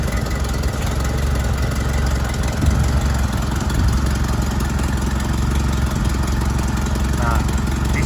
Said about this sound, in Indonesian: Mesin sudah hidup, sekarang akan kita tes,